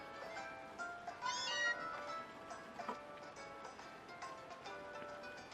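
Meowth from Pokemon Sun gives its meow cry, a short tonal in-game call over steady background game music, with a faint voice barely present.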